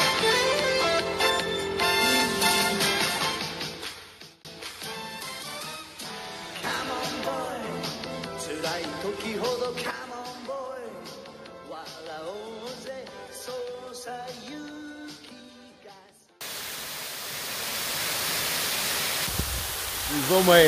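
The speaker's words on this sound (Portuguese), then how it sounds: "estamos aqui na cachoeira mais alta aqui de Iaoatsu" Music plays for most of the time, then the highest waterfall in Yaotsu, Gifu, Japan takes over as a steady, loud, rushing roar of falling water that lasts to the end.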